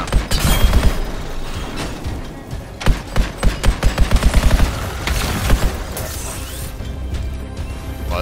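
Rapid sci-fi gunfire from a weapon in the Anthem video game, with dense bursts of shots, a tight run of sharp reports in the middle, and crashing impacts throughout.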